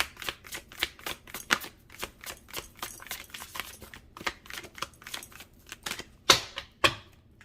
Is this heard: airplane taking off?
no